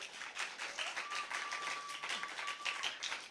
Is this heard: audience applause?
yes